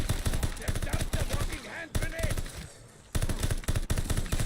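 PPSH submachine gun in Call of Duty Vanguard Zombies firing in fast rattling bursts, loud and close, with short pauses between strings of shots and game effects in the gaps.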